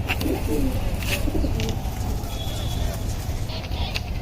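Three female blue-marked working-line pigeons coo in soft, low repeated phrases nearby, with scattered faint clicks and rustles around them.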